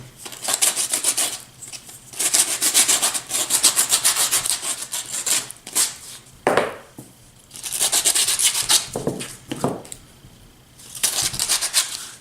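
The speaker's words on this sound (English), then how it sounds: "So once your pieces are sanded" Sandpaper rubbing the rough corners and edges of wooden totem pole sculpture pieces, long steady scratchy strokes in several sustained bursts separated by short gaps, close and fairly loud.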